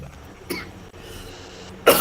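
Two short coughs, one near the start and a louder one near the end, separated by a quiet stretch of low background noise.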